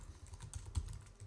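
A few soft keystrokes on a computer keyboard while entering a web address, brief and quiet, close up with no voices.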